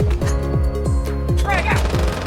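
Call of Duty gunfire, a rapid series of loud, close shots in a steady rhythm within dense game audio.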